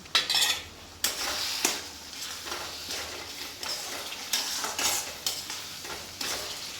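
Moong dal roasts in a pan for halwa while a spoon scrapes and stirs it, making repeated metallic clinks and soft sizzling, fairly quiet and close with no voices.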